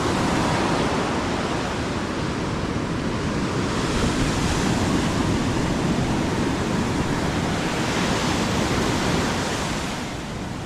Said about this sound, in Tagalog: So, ganito pa rin ang alon,